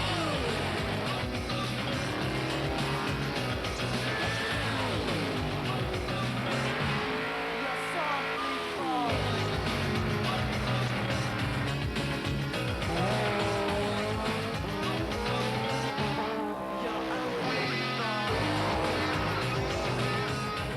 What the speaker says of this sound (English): his 482 cubic inch blown and injected Chevy making mincemeat of the others in his class